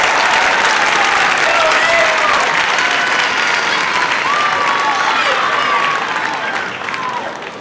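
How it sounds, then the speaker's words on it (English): Loud, sustained applause from the audience at an upper elementary school winter orchestra concert, a dense, close wash of clapping with faint cheers and voices mixed in, easing slightly toward the end. "So one more round of applause for that."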